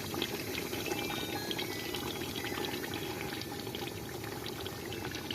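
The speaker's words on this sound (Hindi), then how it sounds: "अब इस मौके पे हम पानी शामिल कर लेते हैं।" Water is poured steadily into a pot of fried barella chicken, a continuous splashing pour with a bubbling, sizzling quality and no talking over it.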